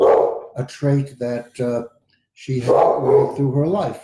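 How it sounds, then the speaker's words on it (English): A dog barks in the background of a home, a few repeated barks that are faint and partly covered while someone speaks clearly in front. "apologies about the barking dog in the background"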